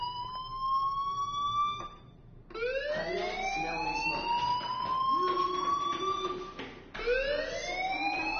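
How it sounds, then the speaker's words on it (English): A fire alarm wails in repeated rising sweeps, loud and close, each tone climbing then cutting off before starting again, with no voices over it. "do you hear that fire alarm?"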